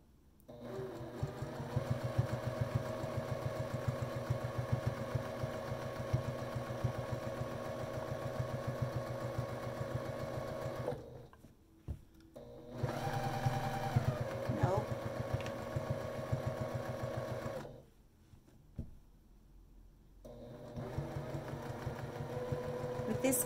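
Sewing machine quilting fabric, running in long steady whirring stretches broken by short pauses, close and fairly loud, with a person talking at times.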